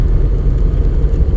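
A car engine hums low and steady as a learner driver gently presses the accelerator during a driving lesson, a continuous close rumble without sharp revs.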